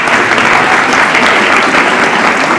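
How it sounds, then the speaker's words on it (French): Students and families applaud teachers at a French collège diploma ceremony, a dense, loud wall of clapping from a large crowd, steady throughout. "Donc on peut applaudir les professeurs."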